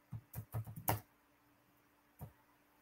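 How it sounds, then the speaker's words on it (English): Typing on a computer keyboard: a short quick burst of about six soft key clicks, then a pause and one last isolated tap, close and quiet. "nobody wants to sit here and watch me struggle with typing"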